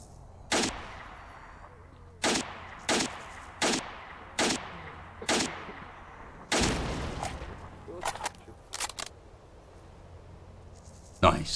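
Gunfire in the video game S.T.A.L.K.E.R., shooting down a hill: a string of sharp, loud single shots at an irregular pace, then a longer heavy burst and a few quicker cracks, with insect-like ambience in the gaps.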